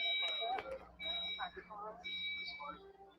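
A high electronic alarm beeps in short repeated tones, faint and somewhat distant, while people chat and greet each other over it.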